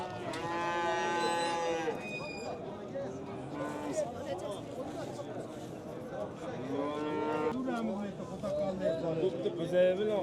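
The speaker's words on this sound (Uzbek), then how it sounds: "Sigir." Cattle at a livestock bazaar in Fergana moo loudly in two long drawn-out calls, one at the start and another near the end, over the chatter of traders talking nearby.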